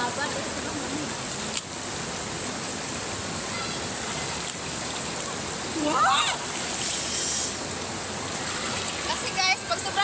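Cold water splashed onto a face at a summer campsite, a short burst of splashing midway through, heard over a steady wash of running water, with people talking throughout.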